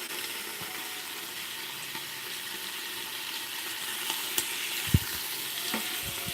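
Strips of thick-cut bacon sizzle steadily in a pan as their fat renders, a constant loud crackling hiss with a few small pops and clicks and no voices.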